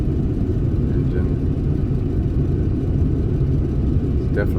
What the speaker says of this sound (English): It's definitely got a miss.